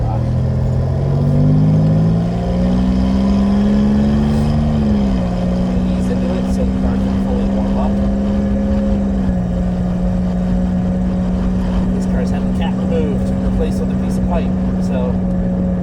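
The 3800 V6 of a 1996 Buick Regal pulls hard under acceleration, its steady engine drone climbing in pitch, easing slightly, then holding a loud, rough cruising tone inside the car, with a worn exhaust adding rasp.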